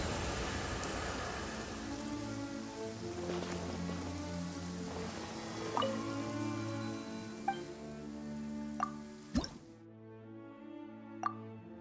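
Rain falls steadily in Genshin Impact, a continuous patter on surfaces with scattered louder drips and plops standing out near the end.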